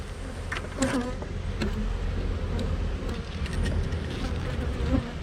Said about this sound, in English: Hopefully it's not full of pissed off bees.